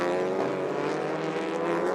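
A TCR touring race car at Circuit of the Americas, 2020, holds a steady, loud, buzzing engine drone with dense harmonics for the whole two seconds, without pause or voices.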